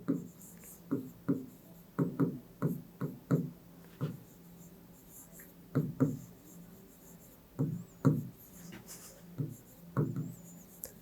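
Chalk or marker strokes on a board come in short, close, rhythmic bursts of scratching and tapping while a class 8 factorization problem is written out, with a few quiet pauses between groups of strokes.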